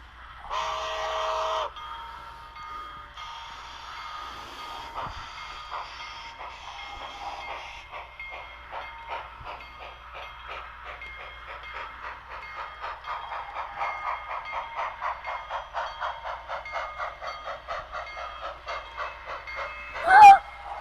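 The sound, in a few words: model railroad train running on track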